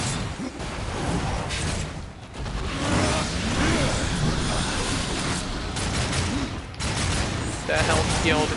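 Rapid video game gunfire from Darksiders 2 rattles in dense bursts alongside whooshes and mechanical clanks, loud and continuous, with a player talking over the action.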